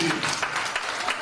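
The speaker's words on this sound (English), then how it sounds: "let's give a good applause and a thank you to this people" A church congregation claps briefly in a steady patter of many hands, with some murmuring underneath.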